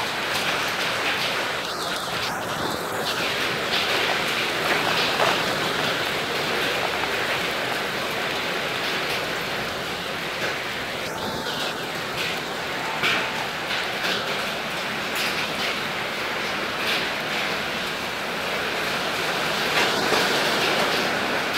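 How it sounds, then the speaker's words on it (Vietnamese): Large hailstones pelt down during an early-season storm in Kon Tum, Central Highlands, a constant close rattling roar with a few faint higher tones breaking through now and then. "Mưa đá to lắm"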